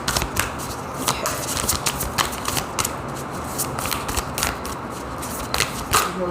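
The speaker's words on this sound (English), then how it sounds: "Give them a good shuffle." Tarot cards are shuffled in a continuous riffling flutter, close and fairly loud, with rapid papery slaps repeating steadily for several seconds.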